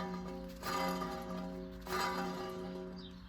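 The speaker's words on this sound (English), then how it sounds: "This has to be the bad bearing, because it definitely shouldn't sound like this." A faulty car wheel bearing spins on the hub, giving off a faint, steady tonal whine. Two broader swells of rumbling noise rise and fade over a few seconds, and no one speaks.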